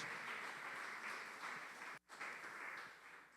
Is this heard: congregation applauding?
yes